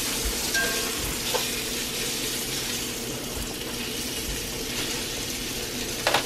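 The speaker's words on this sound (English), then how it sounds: "Should probably show you flipping the steak." Steak frying in a hot pan gives a steady, dense sizzle with crackling spatter throughout, loud and close, with no voices heard.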